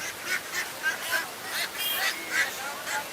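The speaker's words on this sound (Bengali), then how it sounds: "এদিকে অনেক হাঁস আছে" Crowded ducks for sale at a village poultry market in Tongi, Bangladesh, give repeated honking quacks in a steady, busy chorus, close by, with faint market bustle beneath.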